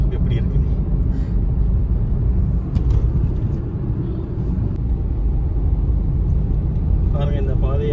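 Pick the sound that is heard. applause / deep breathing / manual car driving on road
manual car driving on road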